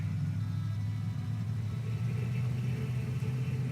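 Off-road truck rolling through snow on snow tires in SnowRunner, a steady low engine rumble with a continuous drone and no letup, loud and close, with no one speaking over it.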